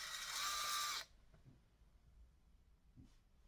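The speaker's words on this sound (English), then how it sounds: "put the drill in." A power drill bores into wood during a beginner tool box woodworking project, one loud high whine lasting about a second that stops abruptly, followed by faint handling clunks in a quiet room.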